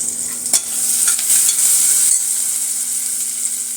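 Soaked millets and moong dal sauté in a pressure cooker for khichdi, a bright, steady sizzle with a short stirring scrape near the start and no talk.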